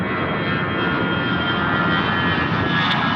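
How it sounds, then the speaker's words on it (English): Steady broadband roar of a KLM heavy jet airliner on approach to runway 23 at Toronto Pearson, continuous and fairly loud throughout with no voices. "KLM 204 heavy, approaching runway 23 at hotel."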